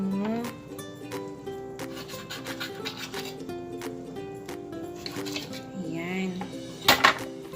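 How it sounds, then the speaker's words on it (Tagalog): A big kitchen knife works through chicken gizzards, with scraping, rubbing cuts and light knocks on a board, joined by a few clinks of utensils and a sharper clatter near the end. "So, gagamit ako ng kutsilong malaki."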